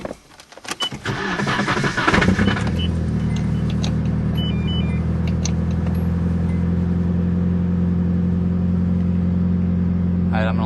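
A 1990 Nissan 240SX with a loose flywheel cold-starts with a brief cranking burst, then settles into a loud, steady close idle, with faint rattly knocking over the low engine hum.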